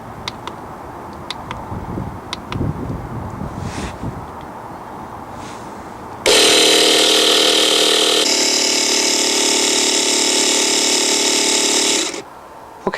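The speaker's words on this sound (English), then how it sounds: "set the compressor to 15 psi, switch it on and build up the pressure in the system" A small air compressor switches on and runs loud and steady for about six seconds, building to 15 psi to drain down a caravan water system, then cuts off after quieter handling noises.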